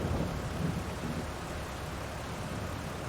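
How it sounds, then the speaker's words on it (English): Rain and distant thunder in the farming game Farming Simulator 22, a steady, dense wash of rainfall with low rumbling underneath, continuous and fairly quiet throughout with no talking. "And hopefully the rain stops and we'll head up."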